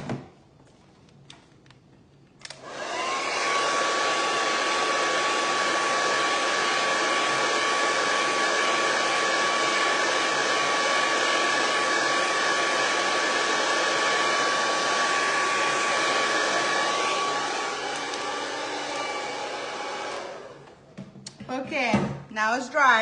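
A hair dryer blows on a freshly applied craft transfer, a steady loud whir running for about eighteen seconds before switching off, with faint handling noises at the start and end.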